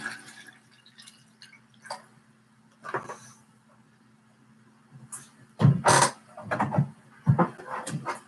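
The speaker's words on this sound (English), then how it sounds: "Pour myself some water here." Water poured into a glass at a desk, heard as a broken run of close splashy trickles and drips over several seconds, with a steady low hum in the background.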